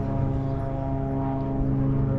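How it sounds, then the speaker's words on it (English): A Spitfire and a private plane flying overhead together, a steady droning propeller engine hum heard outdoors at a moderate distance, continuous with no talk. "over the sound of synchronized flying between a Spitfire and a private plane"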